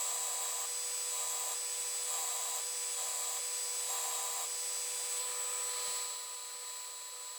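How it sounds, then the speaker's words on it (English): Sanding down scrap wood wheels cut in half, a steady, close abrasive hiss that rises and falls in regular strokes. No voices are heard. "Now I'm sanding down the wheels that I've cut in half."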